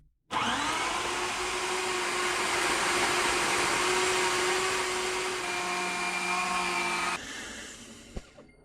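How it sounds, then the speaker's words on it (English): A blender whirs loudly and steadily for about seven seconds, blending a meatball mixture of meat, salt and ground pepper until smooth, then the motor cuts off with a brief rattle. "I'll close it up and blend everything until smooth."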